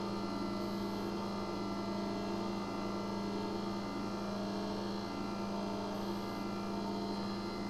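A Philips pasta maker machine runs steadily at close range, giving a continuous even motor hum with a low droning tone and no pauses.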